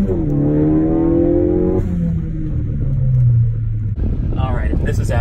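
A Ford Focus ST engine revs with its sound symposer still fitted, a loud, steady droning tone that climbs and then holds before falling back, with a short rise again near the end.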